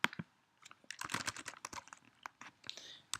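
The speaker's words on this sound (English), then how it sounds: "just type in dummy characters here" Fingers type on a computer keyboard in quick, irregular clusters of light key clicks with short pauses, close and quiet, and no voices.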